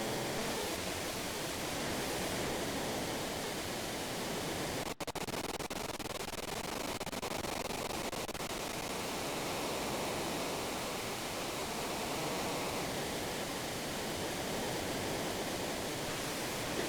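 Rushing river rapids in the Final Fantasy VI video game make a continuous, dense roar of water, steady and full throughout with no pauses and no talking.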